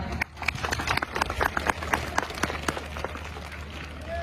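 Dense applause from a crowd, many hands clapping steadily throughout with a few louder claps standing out.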